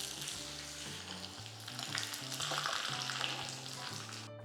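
Curry leaves and sliced shallots sizzling in hot oil alongside a slit chili, a bright crackling hiss that swells midway with a few soft stirring knocks, close up and without voices.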